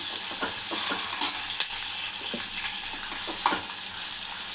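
Onions and fenugreek leaves frying in a pan give a steady close sizzle, with scraping stirs of a spoon cutting through at intervals and no voices.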